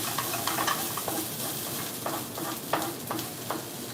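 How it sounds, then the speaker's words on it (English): Garlic and spring onions being stirred in a pan with oil, giving a soft, faint sizzle broken by a few light scrapes and clicks of the utensil. "Just mix that together with the spring onions."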